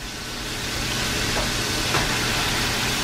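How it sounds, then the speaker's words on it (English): Chicken wings fry in hot oil with a broad, steady sizzling hiss that holds loud and close the whole time, no voices. "And they're frying up perfectly, just letting them take their time and cook."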